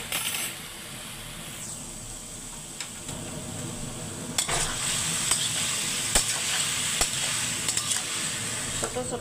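Lunch cooking in a pan, with a steady frying sizzle and occasional sharp metallic scrapes and clinks from stirring.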